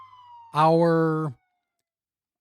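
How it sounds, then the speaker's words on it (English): A police siren sounds a single short wail of about a second with a rising and falling pitch, then cuts off abruptly into silence, following a faint voice. "Whoa. Sirens."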